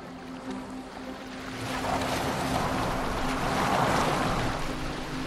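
A boat moves across open water in Assassin's Creed Valhalla, with a steady wash of waves and wind that swells midway and holds at a moderate, even level, no voices.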